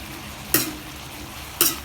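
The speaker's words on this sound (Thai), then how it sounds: "หอมแดงเราก็ใส่ลงไปผัดนะครับ" Shallots stirred into a hot pan with lemongrass for an old-style Thai pork lon, heard as a low frying hiss broken by two sharp scraping stirs of a utensil against the pan.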